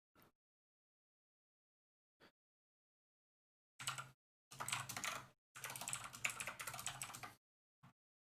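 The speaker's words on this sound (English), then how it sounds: "get ready for some keyboard ASMR" Computer keyboard typing comes in bursts of rapid clicks with long silent gaps, a few isolated keystrokes before and after, close and fairly quiet.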